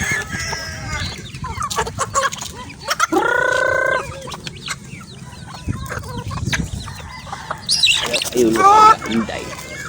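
Chickens cluck repeatedly close by, with a drawn-out squawk partway through and sharper calls near the end amid farmyard noise.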